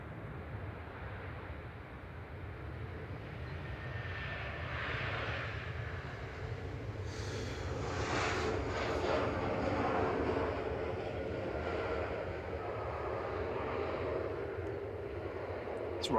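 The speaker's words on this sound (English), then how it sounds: "It's Ryanair from Alicante just rolling out, flight 2071 IFW, that's a Max 8200" Ryanair Boeing 737 Max 8200 from Alicante rolling out at Manchester Airport: a steady, distant jet engine whine and rumble that swells slightly midway, faint and continuous, with no talk.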